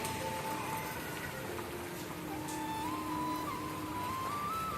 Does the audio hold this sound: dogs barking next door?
no